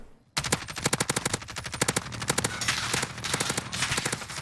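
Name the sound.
gunfire shooting at enemy and quad bike in a video game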